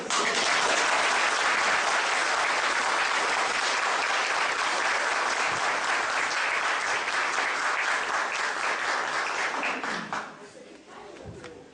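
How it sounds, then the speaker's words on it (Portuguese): An audience breaks into sustained applause, dense and even for about ten seconds before thinning out and fading at the end. "O aplauso é sempre confortável."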